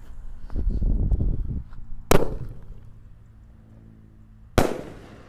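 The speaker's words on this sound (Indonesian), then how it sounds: "Dan yang terakhir di sini ada mercon elang emas guys. Ini bledesnya juga 2 kali, di bawah dan di atas." A golden eagle firecracker set off inside a bamboo tube bangs twice, a sharp loud crack followed a couple of seconds later by a second crack, after a rumbling fizz at the start.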